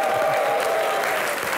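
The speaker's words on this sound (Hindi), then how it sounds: "ताली एक बार रजत सर के लिए।" Studio audience applause for Rajat Sharma on a comedy show, a dense steady burst of clapping filling the space, loud and continuous throughout.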